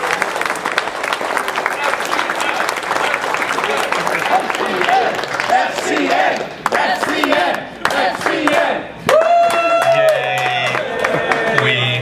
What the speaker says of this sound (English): Give yourselves a round of applause for being so awesome.